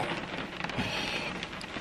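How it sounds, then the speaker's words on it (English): Rain falling outdoors, a steady soft hiss of drops on surfaces, fairly faint and continuous with no talk. "it's raining, so you probably hear the rain"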